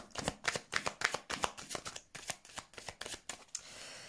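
A deck of tarot cards being shuffled and cut, giving a run of crisp, riffling bursts at a quick, uneven rhythm that close out in a longer smooth swish, near and clear with no voices.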